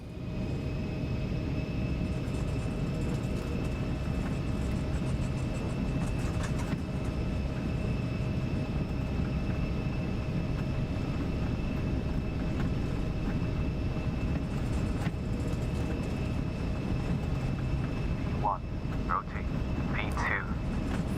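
Twin engines of an Embraer 190 roar steadily at takeoff thrust in X-Plane 12, a loud sustained drone with tonal whine, and brief sharper sounds near the end.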